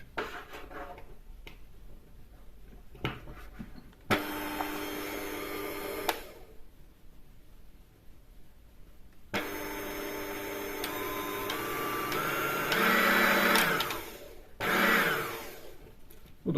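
Electric hand mixer, freshly repaired at home, whirs in two runs, a short burst and then a longer steady spin whose whine climbs in pitch before cutting off, close by and alone.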